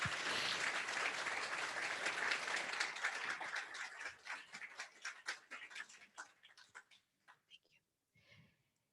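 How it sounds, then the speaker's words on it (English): Audience applause after a live performance at an evening recognition event for people who help immigrants, dense clapping that thins into scattered claps and fades out near the end. "Can we get another round of applause?"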